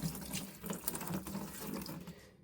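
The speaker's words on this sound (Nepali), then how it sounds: "यता छेउमा पानी हाल्नुपर्छ थोरै" Water is poured in small amounts along one side of a container, a faint, close, continuous splashing trickle with no voices, briefly heard and then cut off.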